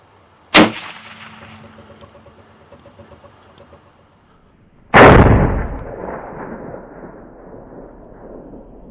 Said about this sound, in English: can a cold bore shot make you have a bad day when you're hunting?